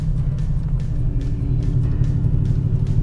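A BMW E39 M5 cruises steadily along the road, giving a continuous low engine rumble with road and tyre noise that stays even throughout, with no talking.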